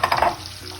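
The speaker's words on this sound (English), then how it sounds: "We're also going to put our onion." Onion sizzling and being stirred in a hot pan for Trinidadian geera pork, a close, steady crackle with a few scraping stirs at the start.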